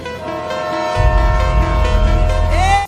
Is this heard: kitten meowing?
no